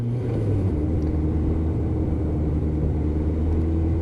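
A Suzuki GSX600F motorcycle engine ticks over at a steady, even idle, a low constant rumble heard close up with no talking.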